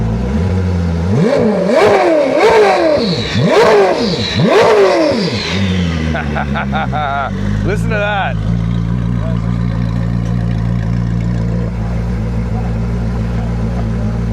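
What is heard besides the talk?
Koenigsegg Gemera engine revving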